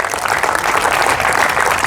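Church congregation applauding during a sermon, a dense, sustained burst of many hands clapping, loud and close.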